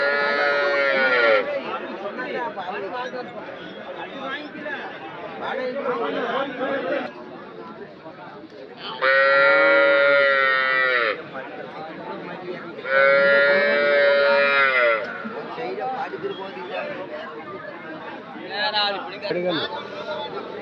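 Dairy cattle at the Anthiyur cattle market give several long, drawn-out moos, two of them loud and close, amid continuous crowd chatter and people talking nearby.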